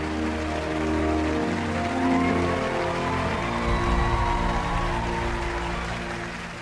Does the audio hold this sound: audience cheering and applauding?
yes